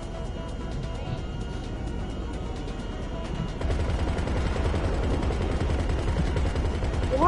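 Turret gunfire from a vehicle during the GTA Online Diamond Casino Heist, a steady rapid mechanical rattle over engine and rotor drone that grows louder and heavier halfway through.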